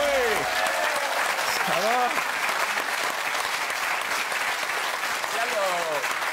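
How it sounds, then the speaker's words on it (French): Audience on a television comedy set applauds steadily and loudly after a hypnosis act, a thick continuous wash of clapping with a few short voices calling out over it. "On peut applaudir Livia, mesdames, messieurs."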